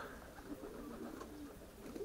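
Soft, low racing pigeon coos drift in and out over a steady background hum, fairly distant and continuous, after the birds' release.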